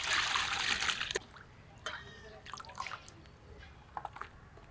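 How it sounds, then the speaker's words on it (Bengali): Raw goat meat rinsed by hand in water, a burst of splashing and sloshing followed by scattered drips and small splashes, close up, with a voice speaking at times. "সবগুলো মিলিয়ে কয়েকবার ধুয়ে নেবো"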